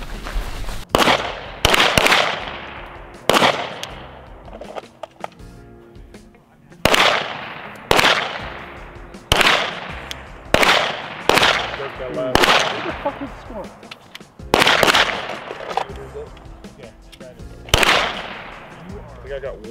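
Rifle and pistol shots crack one after another at an outdoor shooting range during advanced training drills, loud and close, spaced irregularly about a second or two apart with short echoing tails.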